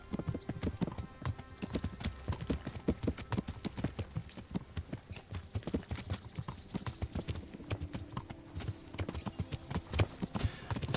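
A horse's hooves clip-clop at a steady riding gait through the medieval countryside of the game Kingdom Come: Deliverance, a continuous rhythmic patter of close, fairly quiet hoofbeats running throughout.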